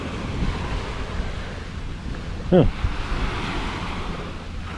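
Ocean surf rolling onto the beach at Koh Samui, Thailand, a steady broadband wash with wind buffeting the microphone throughout; a brief spoken exclamation breaks in midway.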